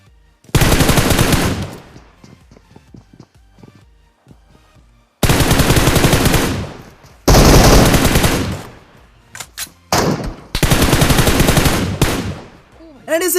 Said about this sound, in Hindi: मेरी एक M4 नहीं रुकी भाई।